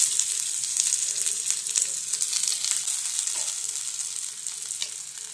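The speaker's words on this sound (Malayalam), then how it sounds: "കടുക് നന്നായി പൊട്ടി വരുമ്പോൾ നമുക്ക് ചുവന്നുള്ളി ഇട്ട് കൊടുക്കാം." Shallots dropped into hot oil with popping mustard seeds, a close, continuous crackling sizzle with scattered sharp pops and occasional stirring scrapes, steady in level throughout.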